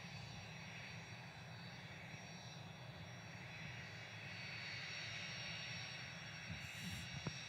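A Cessna Citation CG2 business jet on its takeoff roll at Manchester Airport, with a steady, fairly distant engine roar and low rumble that holds for the whole stretch.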